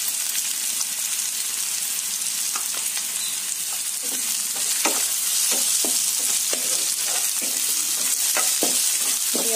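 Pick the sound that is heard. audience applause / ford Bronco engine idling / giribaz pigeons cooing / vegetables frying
vegetables frying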